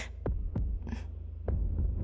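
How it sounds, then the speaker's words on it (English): A muffled heartbeat sound effect for a dramatic reading of Poe's The Tell-Tale Heart: a few dull, low thumps at uneven intervals over a steady low hum, with no voice. "the heart beat on with a muffled sound."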